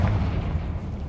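A fiery Confringo blast spell cast in the Hogwarts Legacy video game, a deep continuous booming rumble that stays loud throughout.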